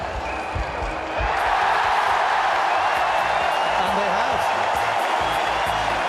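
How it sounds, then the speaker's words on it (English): A crowd at a T20 international cricket match between New Zealand and West Indies cheers after a wicket falls, the roar swelling loud and staying up while a commentator talks over it. "the crowd will go crazy"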